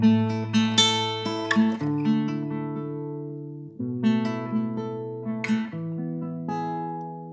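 Plucked acoustic guitar notes ring out with sharp, clicky metronome transients bleeding onto the attacks, a faint ticking layered over the strings.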